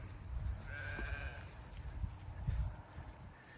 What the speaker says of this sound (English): I think there's some pretty sheep in this bunch